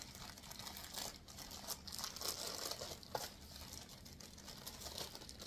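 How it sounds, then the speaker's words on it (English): A stapled plastic bag of parts for a kids' wooden table and chair set is opened, giving soft, close crinkling and rustling with a few sharper tearing crackles, fairly quiet and steady throughout. "we are going to open a bag of parts"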